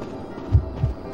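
Heartbeat warning cue from the Identity V horror game, two deep low thumps about a quarter second apart, moderately loud over a faint steady background.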